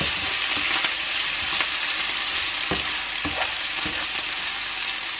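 Spatula stirring fried rice with lemongrass and ginger in a hot pan, steady sizzling frying with repeated scraping clinks of the utensil, close and loud, no voices.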